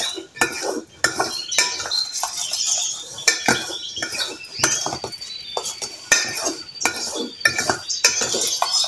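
Bird feed paste being mixed in a dish: repeated scraping and clinking of a utensil against the dish in uneven strokes, close and fairly loud, with no voices.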